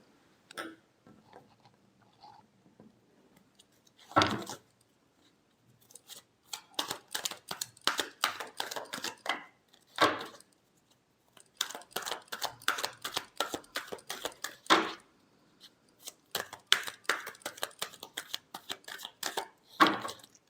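Tarot cards are shuffled in repeated crisp bursts of rapid riffling clicks. Each run lasts a few seconds and is separated by short pauses, close and moderately loud in a quiet room.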